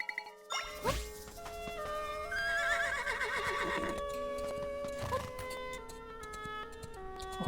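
A horse neighs and whinnies in Zelda: Echoes of Wisdom, a long shrill cry over light jingling game music and faint hoof sounds, with no voices.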